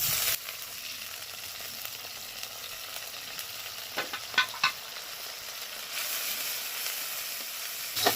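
Onion paste added to a pan of browned onions for mint chicken, frying with a steady close hiss and a few sharp spatters and stirring knocks in the middle, with no talking.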